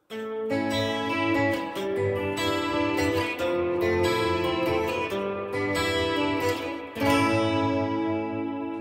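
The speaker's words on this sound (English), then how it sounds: "You can just hear the vibrato just swelling in the background there" Clean electric guitar chords ring out with a gentle wavering vibrato and a wash of reverb that lets each chord swell and linger, played through a TC Electronic SCF Gold stereo chorus flanger pedal with amp reverb.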